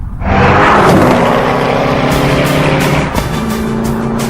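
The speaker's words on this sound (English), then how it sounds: "The Agera's precise aerodynamic design and monster engine provides enough power to drive this hypercar to a staggering 440 kilometers per hour." Koenigsegg Agera hypercar engine roaring loudly at close range, a harsh rising drone with audible gear shifts and a brief dip near the end, with no voices.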